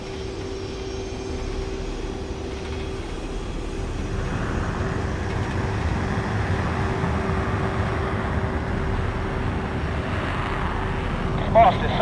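A jet taxiing in Ace Combat holds a steady low engine hum that swells into a louder rushing whine partway through. Talk runs over it.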